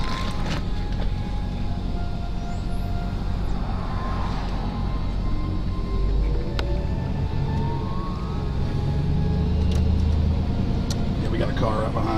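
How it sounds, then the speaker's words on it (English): Car engine and road rumble heard from inside a moving vehicle while people talk throughout, a steady low drone with occasional thumps. "Car right behind us."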